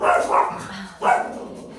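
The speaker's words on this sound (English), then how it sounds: "apparently this upsets my dog" A pet dog barks twice in quick succession, loud and close indoors, with a short whining tail after each bark.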